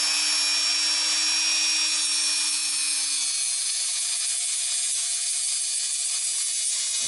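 Dremel rotary tool spinning at high speed, a piercing high whine that holds steady, then shifts to a lower tone partway through as the pitch drops, close and continuous.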